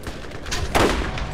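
Enemy gunfire rattles in the Borderlands video game, a quick run of close, sharp shots that peaks in one louder burst near the end.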